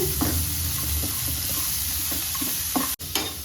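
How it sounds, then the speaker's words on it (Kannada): Onions sizzle continuously in a hot pan as a tempering for mango rice, with soft scraping and tapping as they are stirred now and then. "ಈರುಳ್ಳಿ ಸ್ವಲ್ಪ ಫ್ರೈ ಆಗಿ ಟ್ರಾನ್ಸ್ಪರೆಂಟ್ ಆಗಬೇಕು"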